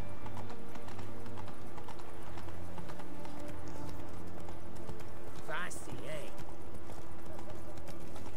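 Geralt's horse Roach from The Witcher 3 gallops with rapid, steady hoofbeats, joined by a brief whinny near the end, over game music and a voice talking.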